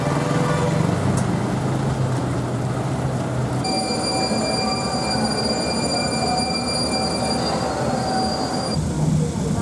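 A Sri Lankan train rumbles steadily throughout, its wheels squealing in high, sustained tones partway through, loud and close.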